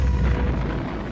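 A nuclear explosion sound effect, a heavy rumbling boom with deep low-end roar and crackling bursts, loud and close, rolling on without pause.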